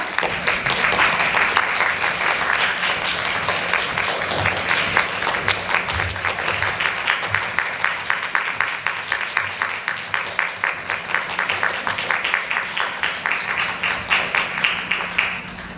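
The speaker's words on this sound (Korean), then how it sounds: "박수로 맞이해주시기 바랍니다." An audience at a film screening Q&A applauds as the director and cast walk on stage. Steady clapping runs throughout and settles into a rhythmic, evenly spaced beat in the second half.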